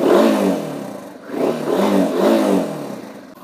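A flooded motorcycle engine cranking and catching with the throttle held open, its loud mid-range roar swelling, dipping briefly, then revving up again in two surges, close by with no talk.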